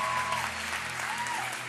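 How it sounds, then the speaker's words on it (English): Audience applause in a church during a worship night, a steady wash of clapping under sustained musical tones from the stage, with no break across the short stretch. "Can we just give these guys one more round of applause?"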